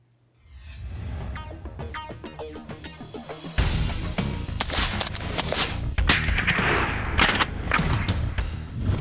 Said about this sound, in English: A lot of people are figuring out how much fun it is to shoot with a silencer.